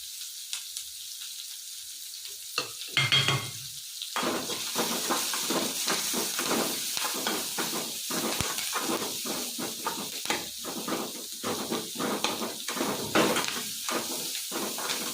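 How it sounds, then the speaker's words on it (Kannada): Garlic, onion and curry leaves fry in a hot pan with a steady, close hiss and sizzle, crackling bursts rising after a sharp drop-in as the ingredients hit the oil. "ಬೆಳ್ಳುಳ್ಳಿ ಹಾಕ್ಕೊತಾ ಇದ್ದೀನಿ ಈಗ ಈರುಳ್ಳಿನ ಹಾಕ್ಕೊತೀನಿ ಇದ್ರ ಜೊತೆಲೆ ಕರಿಬೇವು ಹಾಕ್ಕೊತಾ ಇದ್ದೀನಿ"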